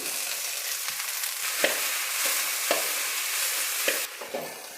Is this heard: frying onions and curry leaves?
yes